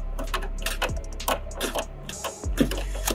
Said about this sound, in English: I got an 8mm on a screwdriver, and I'm just removing that bolt there